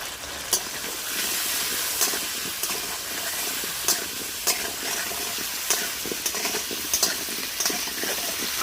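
Potatoes with salt and turmeric fry in a pan for chicken bhuna khichuri, giving a continuous close sizzle with regular light clicks of a spatula stirring.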